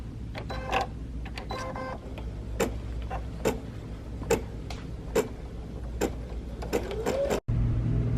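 An embroidery machine stitches a placement line for the lining on a Christmas advent calendar project. It makes a steady mechanical whir with a regular run of ticking, clicking stitch strikes, close and moderately loud, with no talking.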